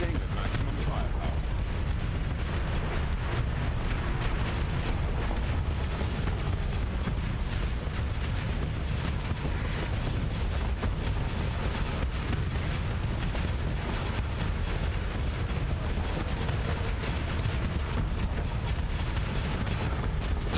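Sustained, dense weapons fire from a Starsector spaceship blasting empty supply crates, a continuous rumbling barrage of booms and impacts at steady loudness throughout, with no pauses.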